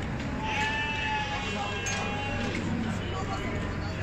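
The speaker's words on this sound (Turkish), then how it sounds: "Koyun keçi karışık." Mixed sheep and goats bleat repeatedly at a small-livestock market in Dörtyol. Several drawn-out calls rise over a constant crowd murmur, and people talk nearby.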